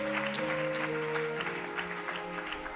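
A church congregation claps steadily and continuously through a praise moment, the dense applause blending with sustained musical tones and crowd noise, with no talk.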